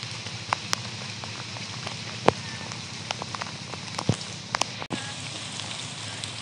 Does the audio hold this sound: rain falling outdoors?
yes